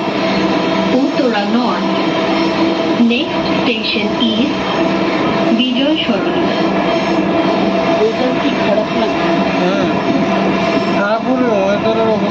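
Dhaka metro rail train runs toward Uttara North with a steady loud rumble and hum inside the carriage, while people talk over it.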